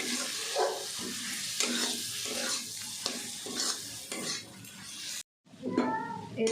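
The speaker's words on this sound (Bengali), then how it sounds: "এরকমভাবে মশলাটাকে ভালো করে কষিয়ে নিতে হবে।" Ground spice masala with turmeric and chilli powder stir-fries in oil in a pan, a close, constant sizzle broken by rhythmic scraping of the spatula, with someone talking over it and a brief silent cut near the end.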